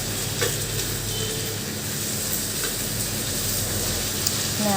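Okra (bhindi) frying crisp in a pan, a steady close sizzle and hiss like light rain, with a few faint clicks and no talking.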